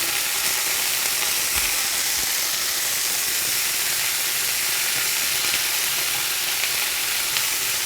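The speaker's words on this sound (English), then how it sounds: "I'm just putting some grapeseed oil into a hot fry pan" Steady, dense sizzling of asparagus frying in hot grapeseed oil in a pan, a continuous crackling hiss close by with no talking.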